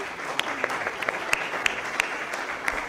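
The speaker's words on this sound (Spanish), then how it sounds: "Damos la bienvenida a nuestros panelistas con un aplauso y esperamos a que tomen sus asientos." An audience claps to welcome panelists at a municipal probity panel. Moderate applause has a few sharp, distinct claps popping out near the listener over a softer, steady crowd of hands.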